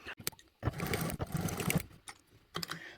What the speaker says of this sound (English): we're going to go across to the sewing machine, and we're just going to baste those two side gussets in.